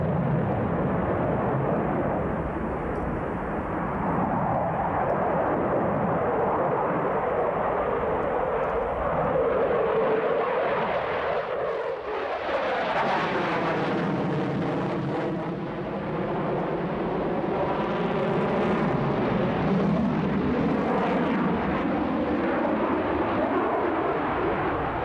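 A MiG-29 fighter jet roars through a fly-by-wire manoeuvre, a loud continuous jet-engine rush that swells, dips briefly near the middle, then returns with a rising, shifting whine, heard alone without voices.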